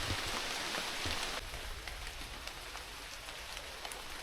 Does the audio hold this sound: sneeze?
no